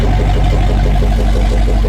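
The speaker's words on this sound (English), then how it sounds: "Oh, she wants to go, she's revving high." Barn-find Lincoln car engine revving high at close range, a loud, steady low rumble with slight fluctuations and no pauses.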